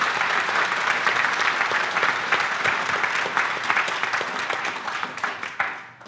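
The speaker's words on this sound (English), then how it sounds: "can we please give a very big round of applause to Carla, Linda and Jenny." An audience at an art gallery talk claps in a dense, steady round of applause that tapers off near the end.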